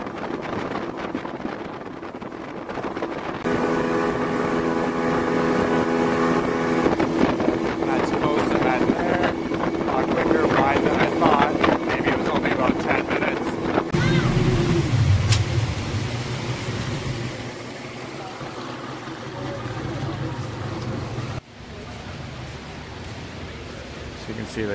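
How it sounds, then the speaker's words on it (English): Speedboat crossing the sea to Koh Samet island in Thailand, a loud steady engine drone with rushing water and wind buffeting the microphone, the tone dropping as the boat changes speed partway through. "this is the speedboat we're taking right here, and we're gonna use it to get across over to the island"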